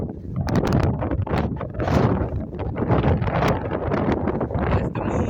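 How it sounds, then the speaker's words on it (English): Strong gusts batter the microphone in heavy, uneven rumbling bursts on a high, windy spot by the ocean, loud and continuous for several seconds. "It is so windy up here."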